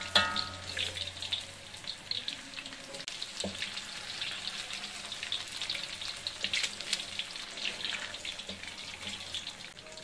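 Fish pieces frying in a pan over lowered heat, a steady close hiss and sizzle running throughout with faint clinks and stirring noises, no voices.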